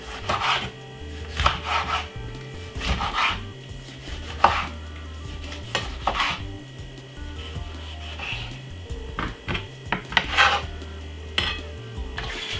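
A knife slices cucumber and tomato on a cutting board for a couscous salad, with a run of crisp, close, rhythmic chopping strokes and brief pauses between them.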